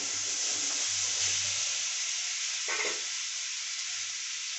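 Butter hitting a hot pan for paneer butter masala gives a steady close hiss of sizzling, with a brief louder flare near the end.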